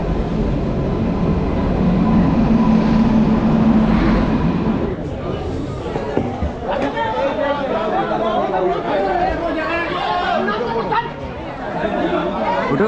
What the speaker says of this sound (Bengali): নৈহাটি এসে পৌঁছালো আমাদের ট্রেন 8 মিনিট লেটে।